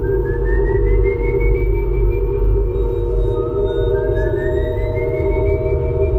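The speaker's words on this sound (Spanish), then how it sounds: "si alguna vez escuchas su silbido en la distancia, significa que está demasiado cerca" Two slow, rising whistled tones glide upward over a loud, constant low droning hum, sounding thin and eerie.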